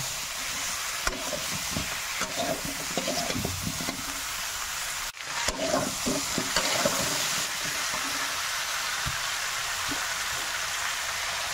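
Salt, turmeric, coriander and chili powder fry in oil for a fish curry, a steady sizzling hiss with irregular stirring scrapes and soft taps of a spatula.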